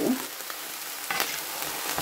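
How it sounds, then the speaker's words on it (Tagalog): Steady, hissing sizzle of eggplant simmering in a pan, close and continuous, with a few faint clinks of stirring. "medyo kumukulo na ang ating talong"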